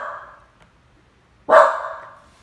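Dogs barking indoors, two separate loud barks roughly a second and a half apart, the second sharper and nearer, with nothing else over them.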